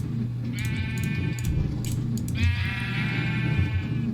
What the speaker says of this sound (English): I wonder if you could shear more than one sheep if they're in the same pen.